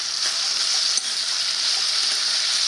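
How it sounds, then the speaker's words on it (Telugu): Okra fries with softened tomato pieces in a pan, giving a steady, close broadband sizzle that holds evenly throughout, with one brief clink partway through. "వీటన్నిటిని కలిపి ఒక ఐదు నిమిషాలు అలా వేయించుదాం ఇలాగా బెండకాయలు కొంచెం మెత్తబడే వరకు వేయించుదాం"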